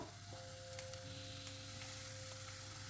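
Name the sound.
onion frying in hot oil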